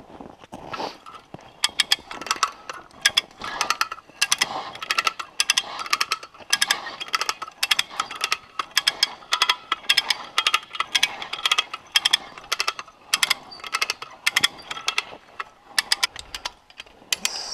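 A come-along hand winch ratchets as a log is pulled uphill manually, a steady run of close, sharp metallic clicks in repeated bursts, each stroke of the handle producing a rapid clatter of pawl teeth.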